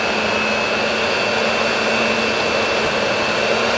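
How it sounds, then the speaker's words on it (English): A blender runs steadily, pureeing a big batch of cooked turkey mole sauce on its lowest speed, a loud continuous whirring motor drone with no talk over it. "We're just gonna puree here"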